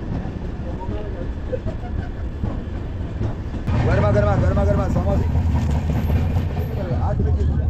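A Kumbh Mela special passenger train from Vizag to Prayagraj pulls into Vizianagaram Junction, a low rolling rumble that grows louder partway through, with voices rising over the clatter.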